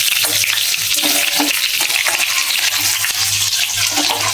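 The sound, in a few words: chopped ginger frying in a pan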